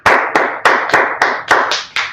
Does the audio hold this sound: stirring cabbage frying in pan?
no